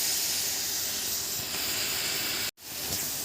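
Chopped onion sizzles in a hot pan with a steady, loud hiss, broken by a sudden brief silence near the end before the frying resumes.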